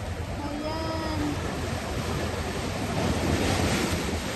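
Rough sea waves crashing and surging against a rocky shore, a loud continuous roar of surf with wind buffeting the microphone, building slightly toward the end.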